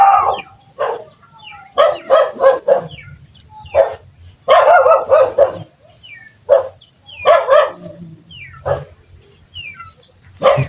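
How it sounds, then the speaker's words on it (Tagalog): A dog barks repeatedly at close range in irregular bursts, with short pauses between barks and faint bird calls in the background. "Uy, may aso."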